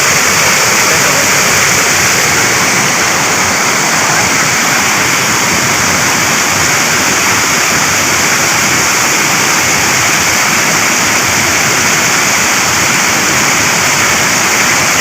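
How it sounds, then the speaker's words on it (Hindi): A waterfall pours steadily at a trout fishing spot, a loud, continuous broadband rush of water that stays constant from start to finish with no voices over it. "अभी आबशार के पानी से धुल रही है"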